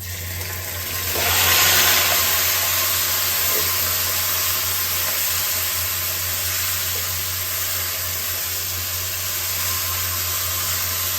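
Marinated meat hits browned onions in a biryani pan, releasing a steady, hissing sizzle that swells briefly near the start and then settles into a continuous, even crackle with no talking.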